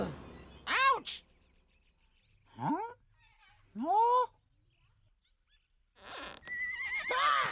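A cartoon horse in a children's animal-names show gives several whinnying neighs, short rising-and-falling calls spaced apart, with a fuller stretch of neighing at the end.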